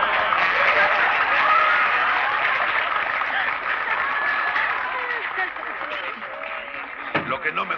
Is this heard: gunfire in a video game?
no